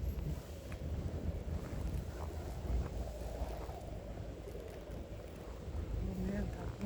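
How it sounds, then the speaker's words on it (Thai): Strong dry wind buffets the microphone outdoors, a continuous low roar with gusty surges, with a voice talking over it. "ลมแห้งคักแห้งเนี่ย"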